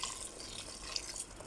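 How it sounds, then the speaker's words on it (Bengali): Water poured into a pot of chicken curry cooking with bottle gourd, a steady, fairly quiet splashing hiss that runs for a second and a half without pause. "দিলাম একটু পানি,"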